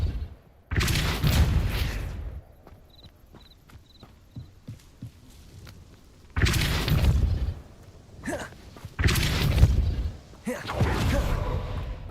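Depulso force spell cast in Hogwarts Legacy: three loud, booming blasts with low rumbling impacts, separated by quieter stretches holding faint chimes and soft in-game ambience.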